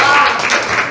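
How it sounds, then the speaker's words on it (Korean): Audience members at a press training session clap together. The applause is a brief, fairly loud, continuous patter that fills the whole moment, with faint speech mixed in. "아주 박수 한번 주세요"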